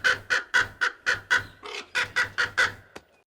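A crow caws in the horror film Jeepers Creepers, a run of about eleven evenly spaced harsh calls, loud and close, followed by a brief click and then quiet.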